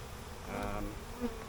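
Bees fly close around burr comb during a hive inspection, giving a short, fairly quiet buzz that swells briefly and fades over a low background drone.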